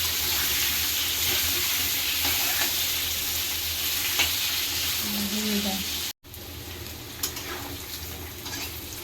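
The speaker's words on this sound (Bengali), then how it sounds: "আলুগুলো ভালো করে ভেজে নেবো লাল লাল করে" Potato pieces fry in hot oil for a fish curry with a dense, even sizzle and occasional stirring scrapes. The sound cuts out for a moment, then the frying carries on.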